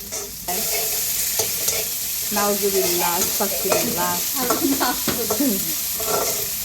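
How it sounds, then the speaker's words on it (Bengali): Kebab fries with green chilies in a pan, giving off a soft sizzle while a utensil scrapes and stirs in repeated strokes. The sound is close and moderately quiet and lasts throughout. "কাঁচামরিচ দিয়ে দিলা না, এগুলো একটু লাল করে ভাজা ভাজা হোক।"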